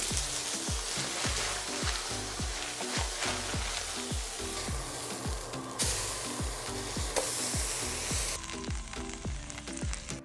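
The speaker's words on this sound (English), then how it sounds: "So here we have our burger patty, and we're just going to place it on this griddle." A burger patty sizzles on a hot griddle with a steady, dense crackle. Rhythmic scraping or tapping thuds sound under it, close and moderately loud.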